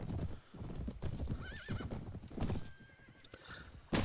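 A horse in the Mount & Blade mod Prophesy of Pendor clip-clops at a gallop with rhythmic, close hoofbeats and a whinny partway through, ending in a sudden loud thud.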